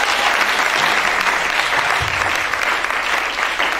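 A church congregation applauding, a dense and loud wash of clapping from a crowd that holds steady throughout.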